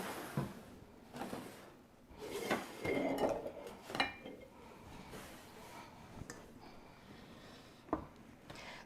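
A mixing bowl clatters and clicks as it is set and locked onto a stand mixer while oatmeal raisin cookie dough is being prepared, with a few close, moderately loud knocks and scrapes and no talking.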